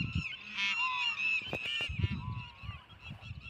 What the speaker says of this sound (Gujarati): તમે પક્ષીઓનો અવાજ સાંભળો, ટીટોડીઓ મોરલા જોણે જાત જાતના પક્ષીઓ ગોંગરે છે.